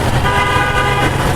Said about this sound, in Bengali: এখন অধিকাংশ গাড়িতে হাইড্রোলিক হর্ন ব্যবহার করায়